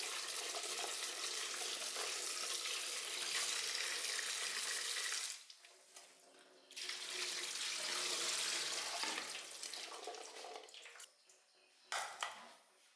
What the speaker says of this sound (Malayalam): ഇതൊന്ന് നമുക്ക് കഴുകിയെടുക്കണം